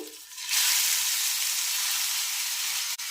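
Crushed raw mango for chutney dropped into a hot cumin and asafoetida tempering: a short quiet moment, then a sudden loud burst of hissing sizzle that holds steady and close for a few seconds.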